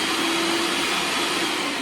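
A food processor whizzes a cold-butter crumble mixture for a chestnut and quince crumble cake, giving a loud, steady motor whir that runs unbroken from start to finish with no talking.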